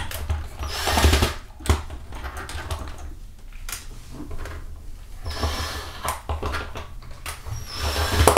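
A power drill spinning a Harbor Freight 25 ft drain snake whirs in uneven bursts, revving and stopping with loud mechanical clatter and rattling, close by.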